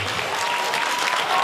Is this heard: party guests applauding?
yes